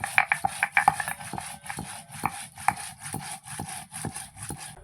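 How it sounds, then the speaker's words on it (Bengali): Whole cumin seeds being ground into a spice paste, heard as a rhythmic scraping and rubbing with regular strokes repeating roughly every half second, close and clear with no talk. "প্রথমে বাটছি জিরে, গোটা জিরে বেটে নেব।"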